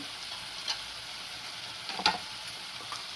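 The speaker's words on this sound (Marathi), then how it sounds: "चांगलं मिक्स करून चांगलं टमाटर परतून द्यायचं आहे आपल्याला" Tomatoes sautéing in a pan with Kashmiri red chili powder for Mumbai-style pav bhaji, a soft continuous sizzle broken by a few quick scrapes of the spoon while stirring.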